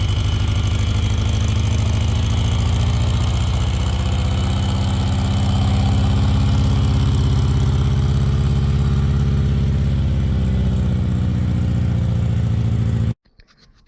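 A Satoh S650G plow tractor with faulty hydraulics runs at a steady idle, its loud, even diesel drone continuing alone for about thirteen seconds before cutting off abruptly.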